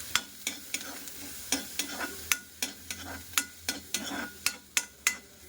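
Onions with curry leaves sauté in a pan as a spatula strikes and scrapes in a steady rhythm, about a dozen sharp clacks over a soft sizzle, close and without talking.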